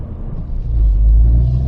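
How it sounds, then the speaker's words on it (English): A Ford Fiesta ST180 engine rumbles low and steady, rising in drone as the car is downshifted into second without rev matching, with no blip or voices. "If I do it now, going down into second without rev matching, yeah, it's quite a shock to the drivetrain and the car"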